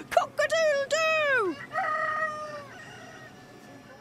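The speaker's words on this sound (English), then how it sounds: "The cockerels crow and the chickens cluck." Cockerels on a farm give a loud, drawn-out cock-a-doodle-doo, then a second, shorter crow follows and fades into faint clucking from chickens in the background.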